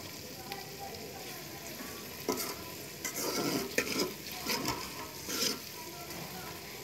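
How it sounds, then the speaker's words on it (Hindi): Onions frying gently in ghee for beef nihari, giving a soft continuous sizzle with bursts of spoon stirring and scraping in the pot, close and fairly quiet. "आप देख सकते हैं अभी प्याज हमारी फ्राई हो रही है"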